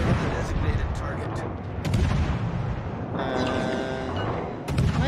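Naval artillery booms from warship guns in the World of Warships video game, heavy repeated blasts with rumbling tails, interleaved with game alerts and a voice talking over the action.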